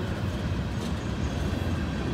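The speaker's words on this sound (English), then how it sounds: "This is a perfect train to track" A train rolls past at a double-track grade crossing, a low continuous rumble of wheels and cars, close and steady without a break.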